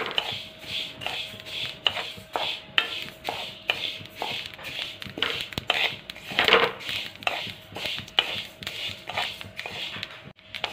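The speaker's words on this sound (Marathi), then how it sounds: "आपल्याला सारखं एकसारखं हलवत लाल रंग येईपर्यंत किंवा खरपूस तीळ भाजून घ्यायचं आहे" Sesame seeds are stirred continuously in a pan as they dry roast to a red, crisp finish for a masala filling, making rhythmic, repeated scraping strokes at a brisk, even pace, close and fairly loud, with no speech.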